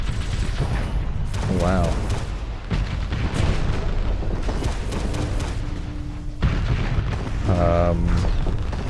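Missile explosions in the space game Starsector with the Nexerelin mod form a dense, continuous rumble of booms and blasts, with a brief surge near the end, under a voice.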